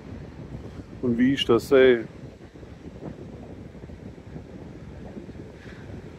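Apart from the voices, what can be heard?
wind whistling on Gran Canaria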